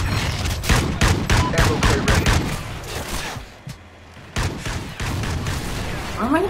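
Rapid gunfire in the Call of Duty: Ghosts video game, dense bursts of shots crackling repeatedly with a brief lull midway before more firing resumes.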